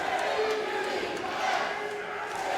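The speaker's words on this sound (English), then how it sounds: "The crowd, though, getting behind him here at the Clyde Malton building." An indoor wrestling crowd at a wrestling show roars and cheers continuously, a dense wall of voices with shouts rising out of it.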